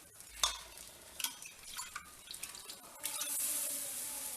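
Black rice flour batter is stirred with water in a bowl: soft, wet scraping and a few light knocks, followed by a faint watery hiss, all quiet and close.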